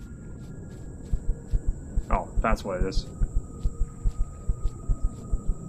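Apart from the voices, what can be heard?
heartbeat in the video game Empyrion: Galactic Survival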